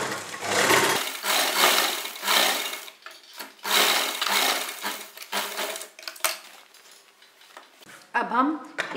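A sewing machine stitches fabric for a stylish neck and sleeve pattern, running in loud continuous bursts with short pauses between runs and a brief voice near the end.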